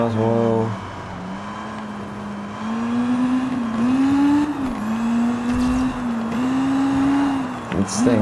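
The Jaguar C-X75 supercar's engine drones steadily in Need for Speed Rivals, its pitch rising and dipping with throttle changes, loud and close, while someone talks over it.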